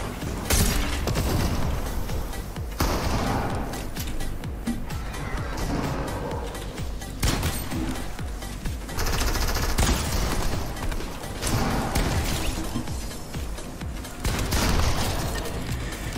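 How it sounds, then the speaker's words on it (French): Distant bursts of gunfire in Fortnite's ghost-town area, with zombies about, popping repeatedly over a steady dense game soundscape with no talk. "J'entends des tirs là."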